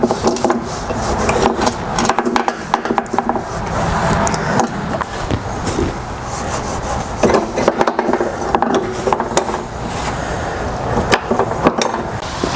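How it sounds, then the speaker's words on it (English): Scrubbing and rubbing sounds while the drive system of a Toro Recycler self-propelled mower is cleaned with brake cleaner, a continuous close, scratchy friction with irregular bursts. "just clean it off a bit here using brake cleaner."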